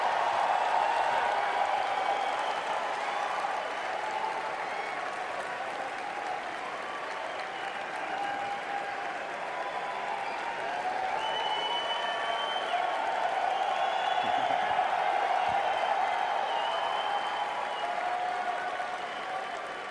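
A large audience at Sony's E3 press conference cheers and applauds loudly, a sustained roar of clapping and shouts that stays strong throughout with no distinct voices.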